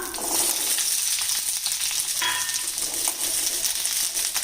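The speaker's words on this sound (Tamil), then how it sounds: "இப்போ நம்ம சின்ன வெங்காயம் வதக்கிறதுக்கு கொஞ்சமாக நல்லெண்ணெய் விட்டுக்கலாங்க இப்போ இந்த சின்ன வெங்காயத்தை இதில் சேர்த்துக்கலாம்" Shallots sautéing in sesame oil in a pan, a loud, continuous close-up sizzle and fry with occasional stirring scrapes and no talk.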